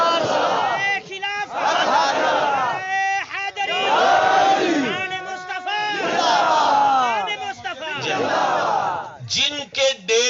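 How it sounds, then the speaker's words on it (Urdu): Large crowd at a milad religious gathering chanting slogans in unison, loud and close, with sustained voiced calls rising and falling in waves and a brief pause near the end before chanting resumes. "آپ دوبارہ نعرہ لگائیں میں دیکھوں"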